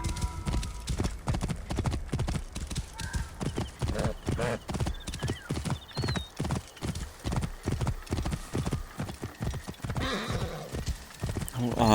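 A horse galloping at full speed in the video game Assassin's Creed Origins, rapid rhythmic hoofbeats pounding close and steady throughout, with a brief whinny and a person talking over it.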